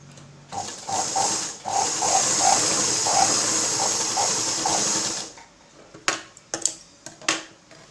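A sewing machine runs continuously for about five seconds stitching a blouse, a loud, even whirring with a pulsing beat, then stops and is followed by scattered clicks and fabric handling.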